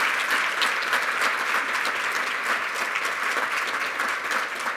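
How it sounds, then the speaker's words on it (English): Loud, continuous applause from a large crowd at an award evening, dense clapping sustained evenly throughout with no pauses. "how about we give a round of applause to you and your staff, Ashley and all the crew, please"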